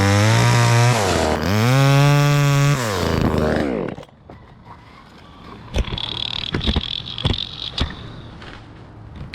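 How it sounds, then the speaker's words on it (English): A $135 chainsaw revs loud and steady with a high engine whine while cutting wood, then cuts out, leaving sharp cracks and knocks of falling timber. "Seriously, it's a chainsaw, chainsaw."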